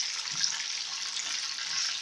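Seekh kebabs fry on a low flame in a pan, giving a steady, even sizzle and hiss that runs without a break and stays close and moderately loud.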